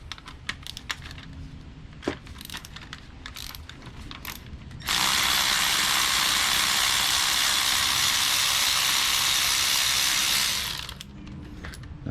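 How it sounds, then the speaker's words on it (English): A socket wrench ratchets a spark plug out of a 2016–2019 Chevy Cruze 1.4L turbo engine. Scattered clicks come first, then a long, loud run of rapid ratchet clicking, close up with no talk. "this specific socket right here does have a magnet on the end, so the plug will come out as I take it out"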